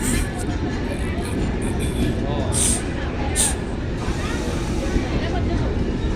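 A passing train produces a continuous broad rumble and clatter that holds steady for several seconds, with a couple of brief hissing bursts over the din.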